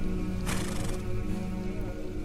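A horse whinnies in the video game The Pillars of the Earth, one bright neigh near the start over a steady bed of game music and ambience, with no talk.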